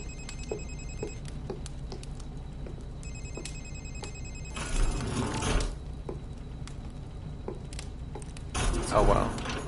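A telephone rings repeatedly inside the video game Republique, its bright electronic trills spaced out in a regular pattern, while someone talks over it with bursts of louder gameplay noise between rings.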